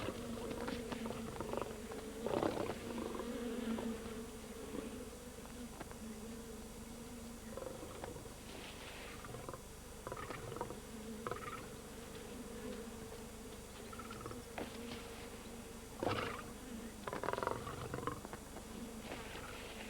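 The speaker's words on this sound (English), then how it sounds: "The cub disturbs a swarm of bees." An angry swarm of bees drones and buzzes faintly and continuously in the wild after a lion cub disturbs it, with low lion growls and roars breaking through now and then.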